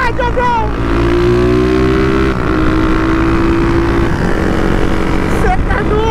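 Start 470 motorcycle accelerating on a road trip, a loud, steady engine drone with rising and shifting tones throughout, close by, with wind-like roar and voices talking over it.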